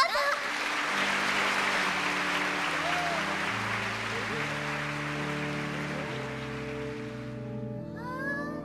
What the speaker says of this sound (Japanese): 皆さんも拍手でお迎えください